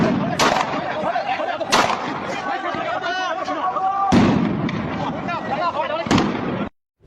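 Repeated sharp gunshot bursts ring out during a street clash between protesters and Iraqi security forces near the US embassy in Iraq, loud cracks at irregular intervals over constant crowd chatter and shouting.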